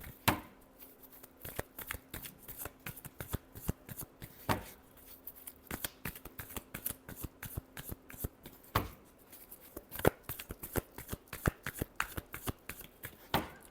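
Tarot cards are shuffled by hand in quick, crisp riffling bursts, close and fairly quiet, with a few sharper taps as the deck is squared, continuing for over ten seconds without talk.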